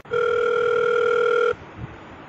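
A steady telephone dial tone sounds loud and unbroken for about a second and a half as a call is placed to the wireman, then cuts off abruptly into quiet line hiss.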